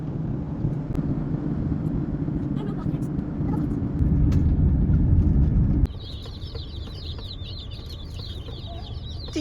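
Cornish Cross and Red Broiler meat chicks chirp in a dense, high-pitched chorus at a post office. The peeping comes through most clearly near the end, after a steady low rumble that sounds like a car's drop away.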